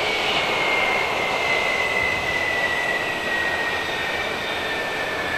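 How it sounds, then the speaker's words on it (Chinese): Jet engines of two parked government aircraft at Macau International Airport keep up a steady, loud roar with a high whine over it, continuous and unbroken, no voices. "我们中国政府代表团所乘坐的12号专机，两架飞机呢都已经停在了预定的位置"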